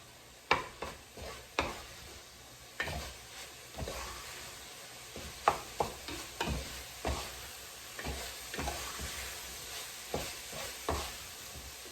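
Spoon stirring spaghetti sauce with garlic in a sizzling pan, a series of close scraping and clinking strokes at irregular intervals over a steady low frying hiss.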